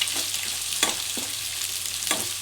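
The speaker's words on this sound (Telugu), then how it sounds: "అన్నము అది ఫ్రై అయ్యేసరికి, రైస్ ఫ్రై అయ్యేసరికి ఆ ఎగ్ కూడా మంచిగా ఫ్రై అవుతుంది" Egg fried rice, Schezwan street style, sizzles in a hot pan, a steady close crackle broken by a few scraping stirs of a spatula, with no voices.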